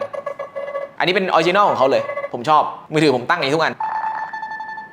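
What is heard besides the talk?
Nothing Phone 2a notification ringtone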